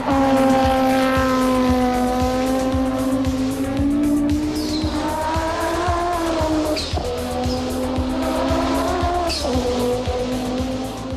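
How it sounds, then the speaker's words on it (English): Sustained high-pitched wail of a 1989 Audi 90 GTO's 720-horsepower five-cylinder turbo engine racing in the iRacing sim, rising and dropping through gear changes with rapid pulsing, loud and continuous, with no talking. "This is a 5-cylinder turbo engine with 720 horsepower. This was a very unique sound"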